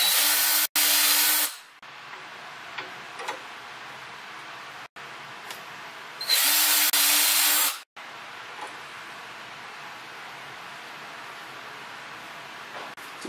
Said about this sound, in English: I've got my little sandpaper drum checked up on my drill again.